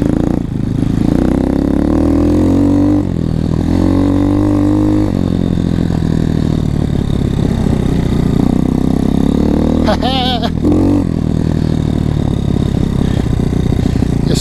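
A Kawasaki KX motocross dirt bike engine at a motocross park, a loud nearby motor revving and droning with pitch rises and falls, then a brief sharp high rev, with voices mixed in.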